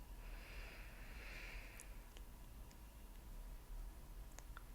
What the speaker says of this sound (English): You want another sniff?